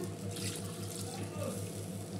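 Water pours into a pot of mutton pieces with coconut for a curry, a steady, close splashing rush that runs the whole time without letting up.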